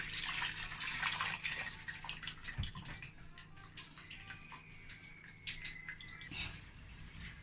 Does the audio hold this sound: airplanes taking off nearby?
no